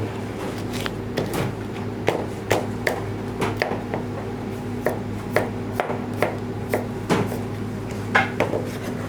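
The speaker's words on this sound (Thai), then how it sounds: "เราจะหั่นแบบ ร้านอาหารตามสั่ง" A knife chops Chinese kale on a cutting board in restaurant style, roughly twenty sharp, regular strokes at a steady pace, close and crisp over a low background hum.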